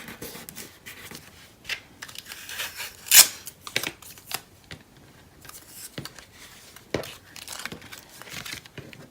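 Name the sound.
tape being applied near outer edge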